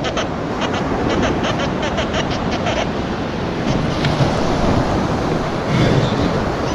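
Sea waves break and wash along the shore in a continuous loud roar, mixed with wind buffeting the microphone.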